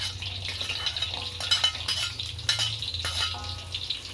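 Garlic and spices sauté in hot oil in a pan for a fried banana blossom and anchovy dish, giving a steady sizzle broken by scraping stirs and light clinks of a utensil against the pan.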